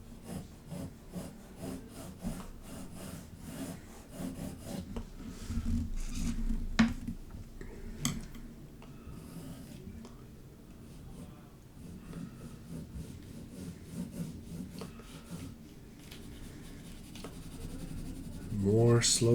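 A 2B graphite pencil scratches and rubs steadily across paper in close, soft strokes, forming a continuous quiet shading texture with a few sharper scrapes.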